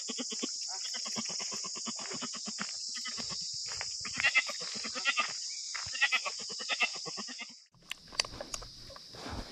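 A goat bleats repeatedly and loudly close by at home, a long run of wavering nasal cries over a steady high-pitched background hum, ending with a brief clatter of other noise.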